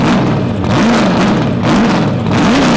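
Engine of a 1971 Dodge Charger NASCAR build with a 383 V8, rising and falling in quick repeated revs, loud and close with a steady rumble underneath and no talking.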